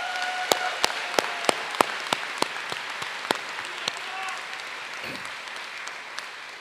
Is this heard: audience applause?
yes